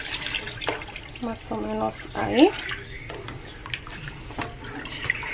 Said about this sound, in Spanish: Y le voy a agregar un poquito más de agua